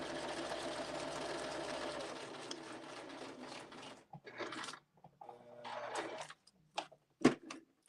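A sewing machine stitching paper and fabric for a junk journal made from junk-mail envelopes, running in a fast steady whir for about two seconds, then stopping and starting in short bursts with clicks and handling sounds.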